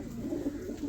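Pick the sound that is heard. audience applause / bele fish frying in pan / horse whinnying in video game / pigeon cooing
pigeon cooing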